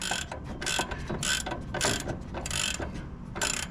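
Ratchet wrench backing off a 17 mm nut on a Snow Beast 45-inch 45SB snow blower, a series of close, crisp clicking bursts in an uneven rhythm with brief pauses between strokes, no talking.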